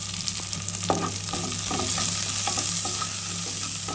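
Chopped spinach being stirred in a hot pan for a Kerala puttu dish, with steady frying sizzle throughout and repeated scraping clinks of the spoon against the pan, close and fairly loud with no talking.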